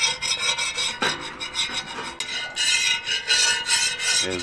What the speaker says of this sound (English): Notice how all this stuff it breaks up off of there pretty easy. I'm gonna scrape all that.